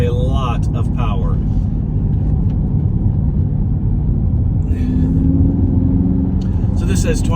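A steady low engine drone from a Dodge Charger Scat Pack widebody while driving, heard from inside the car under continuous talking, a constant rumble with road noise throughout.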